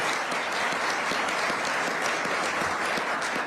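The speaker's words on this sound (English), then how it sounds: "Let's give another round of applause for this team." Audience applause at a governor's state budget address, a steady, even wall of many hands clapping at constant loudness from start to finish.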